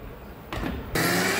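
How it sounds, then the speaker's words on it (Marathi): Kitchen mixer grinder working soaked rice and lentil batter: brief muffled clunks, then a close, loud, continuous whirring hum that kicks in abruptly and holds steady to the end. "असंच मिक्सरला लावून घेते।"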